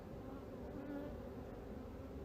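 Honeybees humming steadily in a low, faint drone while a hive is opened for inspection, a continuous buzz with no talk.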